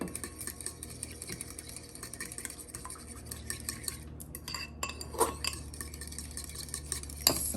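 Sugar-sweetened French toast custard is whisked in a bowl, a steady run of light scraping and tapping strokes close up, with a few sharper clinks near the end.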